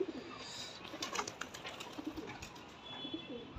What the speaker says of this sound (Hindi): ये नया कबूतर था दोस्तों